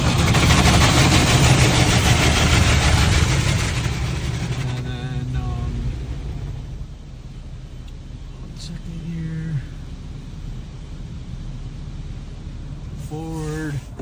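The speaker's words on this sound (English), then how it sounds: "this car wash is pretty good for what it is. It starts to clean like the sides" An automatic car wash cleans the sides of an M4 in a Canadian winter, starting with a loud rushing wash of spray and brushes that fades to a lower rumble while voices talk inside the car.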